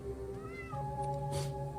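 A cat meows once, a drawn-out, wavering cry that bends in pitch, heard close and clear over a low steady background hum.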